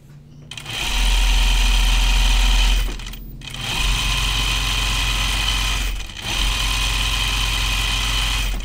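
A sewing machine stitching a Wiksten Unfolding Jacket (Haori) runs in three loud, close, continuous bursts of whirring and rattling, separated by brief pauses.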